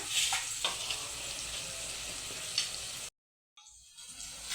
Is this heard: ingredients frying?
yes